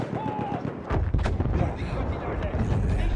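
Shotgun fire in the Battlefield 1 video game, several heavy booming blasts in quick succession over dense battlefield rumble, with a voice briefly heard early on.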